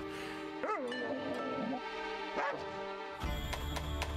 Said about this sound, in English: I don't want to hear the sad dog noises.